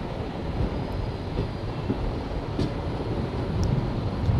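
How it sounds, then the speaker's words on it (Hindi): Indian passenger train pulling out of Seoni station, heard from inside a coach as a steady loud rumble of wheels on track with faint clicks and rattles and no talk. "डिपार्ट हो चुकी है सिवनी स्टेशन से।"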